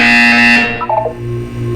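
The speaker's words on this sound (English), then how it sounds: "You will hear a buzzer." A buzzer tone from the video game Portal 2 sounds once, loud and steady, then drops into a quieter electronic hum with no talking.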